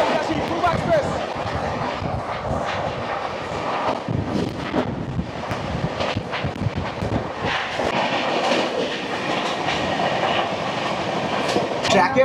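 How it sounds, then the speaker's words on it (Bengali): The Purba Express, train 12382 from New Delhi to Howrah via Gaya, rumbles past with a steady rolling roar and rhythmic clickety-clack of wheels, buffeted by heavy wind noise throughout. "চলে আসছে ট্রেন নাম্বার 12382, নতুন দিল্লি থেকে হাওড়া পূর্বা এক্সপ্রেস ভায়া গয়া"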